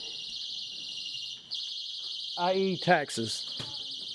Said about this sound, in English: That was the alarm sounding.